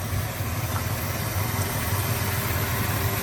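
A 1965 Plymouth Fury engine idles steadily and evenly with a low, constant rumble and no change in revs, heard alone at a fairly loud level.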